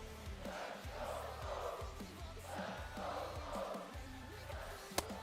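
Stadium crowd noise from the baseball game MLB The Show 25: a steady, dense roar of many voices with swelling cheers and a low rhythmic thumping underneath.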